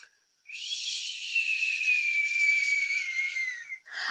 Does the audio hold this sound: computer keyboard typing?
no